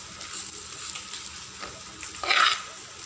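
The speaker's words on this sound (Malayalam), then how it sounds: "ഇതൊന്ന് ഇതുപോലെ ഒന്ന് ചൂടാക്കി ഈ ചൂടിൽ ഈ പൊടികളൊന്ന് ചൂടാവണം" Kashmiri chili powder and green chilies sizzle gently in hot oil in a pan while cooking a sardine curry, with soft stirring scrapes and a brief louder burst of frying near the end.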